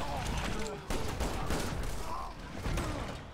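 Gunshots from the survival horror game Resident Evil 6, several loud close reports mixed with mechanical clicks and clatter, all set under a dense, busy game soundscape with no clear pauses.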